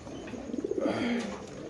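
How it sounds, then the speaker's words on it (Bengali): A pair of maxi racer pigeons coos softly nearby in a short series of rolling, pulsing notes that ends in a lower drawn-out coo. "এক জোড়া মাক্সি রেসার কবুতর"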